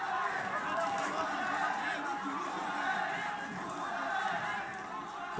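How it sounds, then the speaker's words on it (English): A hyped arena crowd at an MMA event keeps up a continuous roar of cheering, shouts and chatter that swells and dips slightly, with commentary voices faintly mixed beneath the noise. "The crowd continues to be very hyped."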